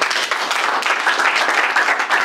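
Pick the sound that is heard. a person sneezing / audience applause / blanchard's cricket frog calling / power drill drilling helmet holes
audience applause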